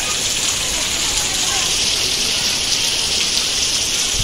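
Steady unseasonal rain pours down in a Konkan village, a dense continuous hiss of drops on surfaces at full loudness throughout, with no break or variation.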